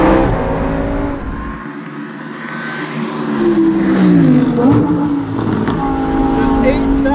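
A Lamborghini Performante Spyder's naturally aspirated engine revs loud and close, its pitch sweeping up and down with gear changes, while someone talks over the engine.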